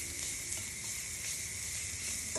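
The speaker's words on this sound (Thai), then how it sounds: "ใส่น้ำมันใส่กระเทียมแล้วทุกคนก็คั่วให้มัน สุกแล้ว" Minced garlic sizzles in hot oil in a pan for stir-fried tofu with minced pork, giving a steady bright hiss that stays even throughout, close up and without any voices.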